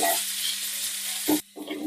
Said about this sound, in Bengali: এবার দিয়ে দেব কেটে রাখা টমেটো। এটাও একটু নাড়াচাড়া করে নেব।